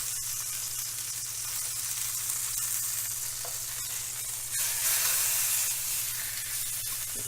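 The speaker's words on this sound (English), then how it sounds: "the idea here is just to sear these off and brown them" Pork pieces searing and browning in a hot pan give a steady, close frying sizzle with a constant low hum beneath, swelling briefly louder midway with no talking.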